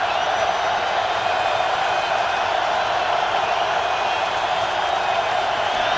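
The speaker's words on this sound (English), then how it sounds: "Once again, the very vocal Baltimore crowd." A vocal Baltimore crowd roars steadily at a Ravens versus Colts football game, a dense, distant wash of cheering that stays even throughout.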